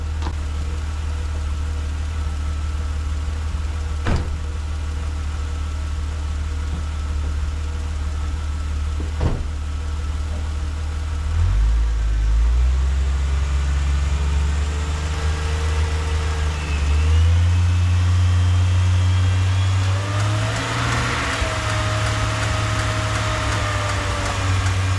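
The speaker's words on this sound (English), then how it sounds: "Hop in the Jeep and rev it up a little bit." A Jeep engine idles steadily, then is revved several times, the pitch climbing and falling in repeated swells, loud and close, with no talking.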